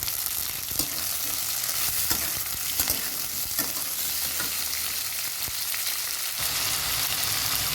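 Tomatoes go into hot oil for a potato and tomato chorchori, giving a steady, busy sizzle with stirring scrapes and no talk.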